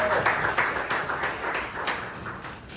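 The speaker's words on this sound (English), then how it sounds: "Round of applause" Scattered applause from a crowd at a Jersey City tech meetup, uneven claps of moderate loudness running steadily throughout with no speech over them.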